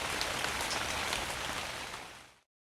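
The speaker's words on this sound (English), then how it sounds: "Outside Pooh's house it rained and rained." Rain pours down steadily as a read-along story sound effect, making a dense, even patter that is loud and close, then cuts off abruptly near the end.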